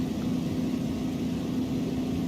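Constant low droning from the Supermarine Spitfire Mk1a engine in Microsoft Flight Simulator, heard up close and unbroken.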